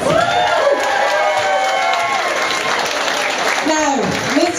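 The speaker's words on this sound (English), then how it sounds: "Give them a round of applause." Lively audience applause mixed with cheering and whoops at the Mr Gay Ireland contest in a Dublin hotel, dense and loud throughout, with crowd voices and shouts rising over the clapping.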